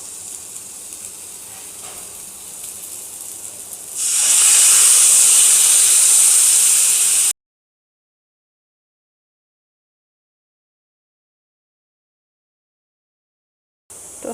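Water poured into a hot pan of fried pointed gourd erupts into a loud, sustained steamy sizzle and hiss that swells suddenly and holds for several seconds before cutting off abruptly.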